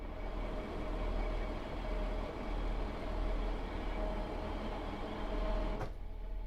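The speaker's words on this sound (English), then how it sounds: "So you can open the windows, get a bit of engine noise in." Train engine noise comes in through open cab windows in a train simulator game, a steady loud droning rumble with a constant hum that runs throughout, ending with a brief sharp click.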